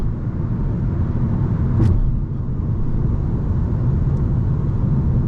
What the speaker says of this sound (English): A little bit of wind noise. I'm doing 80, but not obtrusive.